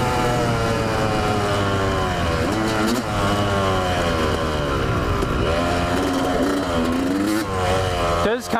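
A Yamaha motorcycle engine runs loud and close throughout. It revs up and down in uneven swells, with a couple of brief dips near the end.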